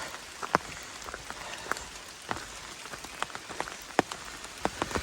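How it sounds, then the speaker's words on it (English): Rain pattering on an umbrella along a hiking trail, irregular close taps and drips over a soft continuous wash, moderately loud with no voices. "Rain keeps it a lot cooler."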